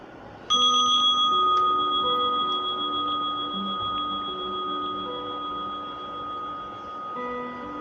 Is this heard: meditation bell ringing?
yes